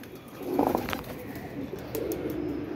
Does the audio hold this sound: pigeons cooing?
yes